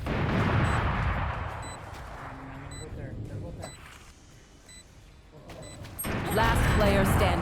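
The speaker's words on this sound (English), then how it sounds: "Flashbang." A flashbang grenade goes off in a shooting video game, a loud broadband blast opening the clip amid crackling gunfire, then quieter game noise before another burst of heavy firing near the end; a voice talks over parts of it.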